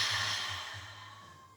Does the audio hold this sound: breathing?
yes